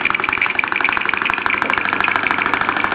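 A small Mersey 51 toy steam engine runs after a repair, chuffing in a fast, steady rhythm of sharp, evenly spaced beats up close, with a mechanical hum underneath.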